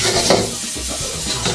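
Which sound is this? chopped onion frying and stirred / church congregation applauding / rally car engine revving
chopped onion frying and stirred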